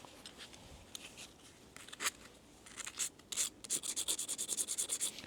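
Blade of a cutting tool rubbed against a sharpening surface to strip rust, a soft gritty scraping that starts sparse and builds into quick rhythmic strokes, close and fairly quiet, with no voices.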